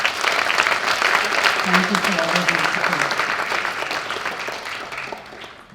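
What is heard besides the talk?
audience applauding at an honor society induction ceremony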